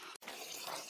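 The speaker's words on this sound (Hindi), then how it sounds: "तो दोस्तों ये पानी निकाल रहा है" Water runs steadily from a solar-powered DC water pump drawing from over 200 feet deep, a continuous close splashing flow with one brief break at the start.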